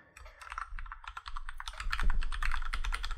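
Rapid, even keystrokes on a computer keyboard as a wireless password is typed in, a close, steady patter of clicks for a few seconds with no talking.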